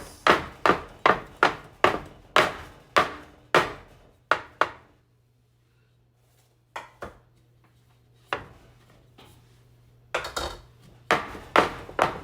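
Repeated sharp knocks of metal cake pans filled with batter being tapped against a surface to release bubbles, a rapid run of hits, a pause, then more sporadic taps and another quick burst.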